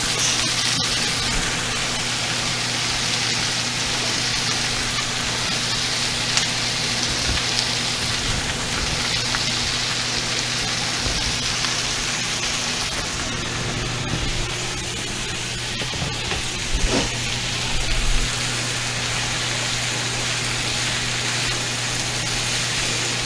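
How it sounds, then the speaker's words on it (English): Cabbage sautéing in a pan for colcannon potatoes, a steady close hiss and crackle that carries without pause throughout, with a low constant hum underneath and no talking. "Then we're adding the cabbage."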